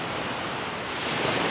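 Sea waves washing onto Tondaligan Beach in Dagupan, a constant broad rushing surf with a windy edge and no voices.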